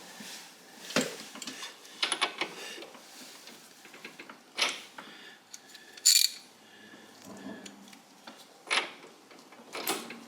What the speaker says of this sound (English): I'm just going to go ahead and take off the front bolt